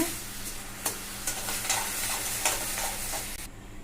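A spoon stirs and scrapes sugar around a pan in repeated strokes over a soft, steady sizzle, with no one speaking, while making rava laddu.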